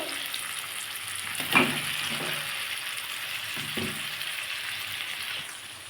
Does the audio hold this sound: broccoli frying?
yes